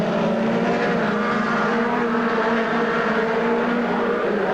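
Race cars run down the backstretch at Silver Spring Speedway, a steady, loud engine roar with droning harmonics holding throughout and no talk.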